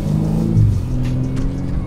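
A BMW M2 with its exhaust set to sport mode, the engine holding a deep, loud rumbling rev that swells slightly and then settles into a steady growl up close.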